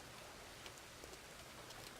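Rain in the farming video game Farmer's Dynasty, a faint, steady hiss of falling drops with light scattered pattering, continuous and without voices.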